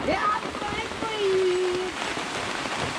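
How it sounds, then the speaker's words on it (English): Rain comes down outdoors in the rural Philippines near a fire oven used for baking bread, a broad steady patter under a voice speaking and a brief vocal tone. "here comes the rain again"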